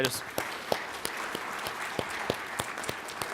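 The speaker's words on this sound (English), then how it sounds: "Let's give him a round of applause really quick." Audience at a cannabis industry conference in Portland applauds a state senator, a short burst of scattered claps with sharp individual hand strikes over a room murmur.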